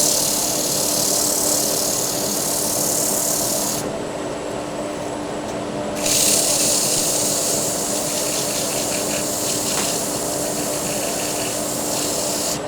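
Continuous abrasive rasping of 240-grit sandpaper against a wooden table lamp spinning on a lathe, with the steady motor hum beneath, loud and close, briefly easing mid-clip before resuming.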